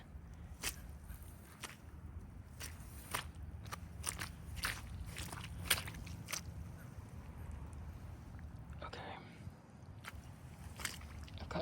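Boots squelch and crunch through thick mud outdoors in a steady run of close, crisp footsteps over a low background rumble, quiet and intimate.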